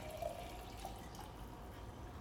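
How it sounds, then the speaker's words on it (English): Warm water with two cloves is poured into a mason jar, a soft, continuous liquid stream with faint dripping, heard quietly and alone. "Gonna pour it into my mason jar."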